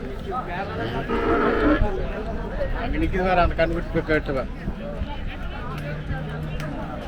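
Kangeyam native cattle moo at a busy cattle market, giving several loud, drawn-out calls close by over a background of crowd chatter and people talking.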